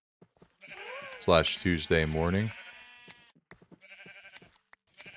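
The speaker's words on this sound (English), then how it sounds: "Let's see if this is enough sheep." Sheep in a video game let out a couple of loud, wavering bleats in close succession, with a person talking before and after them.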